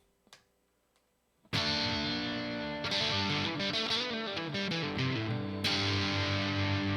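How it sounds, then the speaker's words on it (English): An electric guitar with an Evertune bridge rings out with full distortion, a sudden loud sustained chord followed by a run of thick, saturated notes and another struck chord, with no talking. "Let's switch to some full distortion just so we can take the podcast home"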